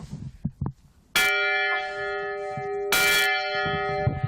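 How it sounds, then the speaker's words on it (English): A large plantation bell is struck twice, each clang ringing out loud and close with a long, sustained metallic tone, following some faint talking. "there's a really big bell. Let's see if we can get it."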